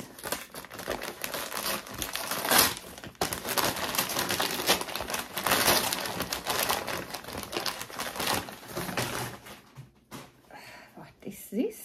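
Christmas wrapping paper printed with Santas crinkles and rustles up close during a reborn silicone doll box opening, in dense bursts of crackling that fade near the end.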